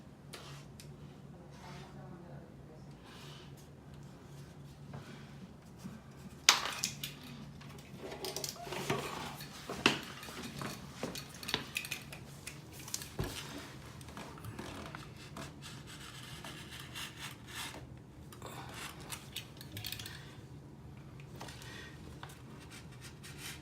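A utility knife scoring and cutting a piece of donor drywall to size against a template, a long stretch of close scraping and rasping strokes with scattered knocks, quiet throughout.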